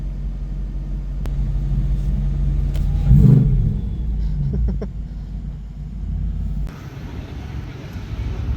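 A BMW E46 with a swapped-in V8 at a drift event rumbles loudly at close range, rising into a rev around the middle before easing back, with background noise shifting near the end.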